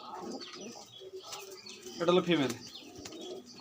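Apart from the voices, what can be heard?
two white Rajshahi Giriraj pigeons cooing in a room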